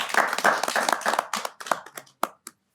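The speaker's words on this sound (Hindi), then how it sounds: "एक बार जोरदार तालियों से उनका सम्मान करते हैं" Audience at a New Year 2021 kavi sammelan gives a poet a burst of loud, dense clapping that thins into a few scattered, fading claps and stops within about three seconds.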